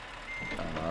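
A reversing truck in the Euro Truck Simulator 2 video game: a steady warning beep over a continuous engine drone, fairly quiet and close.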